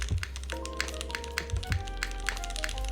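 Typing on a SingaKBD x Monokei Jaguar V2 mechanical keyboard, close and fairly quiet: a steady run of sharp key taps with a few deeper thunks, with no talk.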